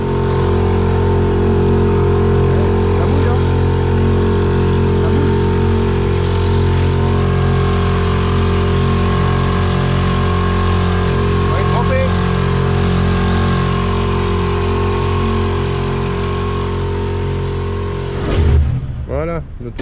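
A small outboard motor drives a little SVB inflatable dinghy, its steady buzzing drone running loud and close throughout, with a brief splash or knock near the end.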